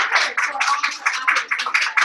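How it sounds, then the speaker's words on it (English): A workshop audience at an introductory R programming bootcamp claps to welcome a speaker. The close, bright clapping comes in uneven bursts and swells for about two seconds with no one talking. "So if you guys want to give her a nice round of applause"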